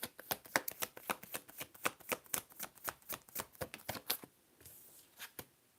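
A deck of tarot cards is shuffled close by in a rapid run of crisp riffling flicks, which then thin out into a few softer taps, with no talk.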